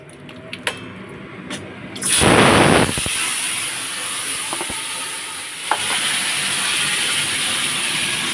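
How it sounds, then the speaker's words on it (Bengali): A kitchen chimney exhaust hood runs above a gas stove where potatoes are frying in hot oil: a loud sizzling burst gives way to a steady, close whooshing fan noise with a few small clinks, and no voices. "চিমনিটা চালিয়ে নিই"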